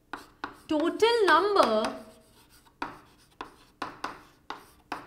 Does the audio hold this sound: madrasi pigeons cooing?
no